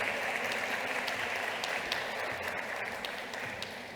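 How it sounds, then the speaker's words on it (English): Dense, steady applause from a conference audience at a healthcare leadership event, sustained across the whole stretch and tapering slightly toward the end. "A round of applause, please."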